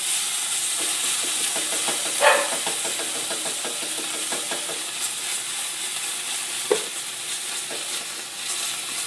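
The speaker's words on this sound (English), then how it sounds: "So we're just going to let that cook up a little bit." Vegetables fry steadily in a pan, a constant hiss and sizzle with occasional stirring scrapes and a couple of louder clatters, close and alone without voices.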